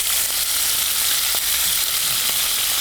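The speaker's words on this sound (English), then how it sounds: "While we sear our shrimpies" Shrimp searing in a nice hot pan: loud, dense, continuous sizzle with a few soft taps mixed in, close by and with no voices.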